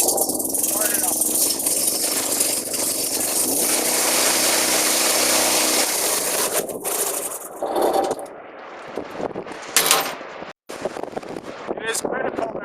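Onboard 22 horsepower Honda engine on a rail trailer wet kit running steadily up close, a continuous droning hum that later becomes choppier and more irregular, with a person talking over it.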